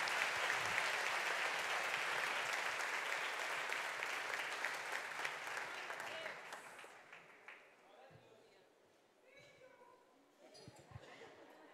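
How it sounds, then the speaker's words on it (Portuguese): A church congregation breaks into sustained applause welcoming a visiting pastor, a dense wash of clapping that gradually thins out, followed by someone speaking. "Você quer aplaudir o Senhor pela vida dele?"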